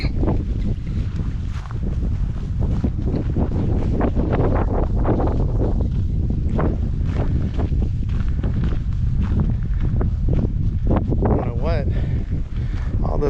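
Strong wind buffets the microphone on a high desert hike in Washington, a continuous loud rushing roar with gusty surges and faint footsteps and rustling underneath.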